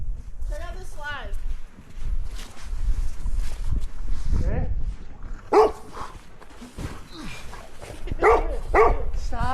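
Dog barking outdoors on snowmobile trails in northern Michigan in winter, a few sharp barks and whimpers scattered among people talking nearby, with footsteps and wind.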